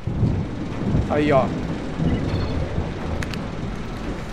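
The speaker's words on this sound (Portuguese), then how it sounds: "Chovendo ainda." Low rumbling thunder rolls over steady rain noise in the game Dying Light, with a brief muffled voice speaking near the start.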